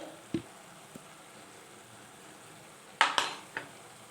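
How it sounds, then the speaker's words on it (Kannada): Coriander powder being stirred into methi dal in a frying pan: a few quiet, scattered scrapes and clicks of a utensil against the pan, with a light sizzle between them. "ಧನಿಯಾ ಪೌಡರ್ ಹಾಕ್ಕೊಂಡು ಮಿಕ್ಸ್ ಕೊಡಿ"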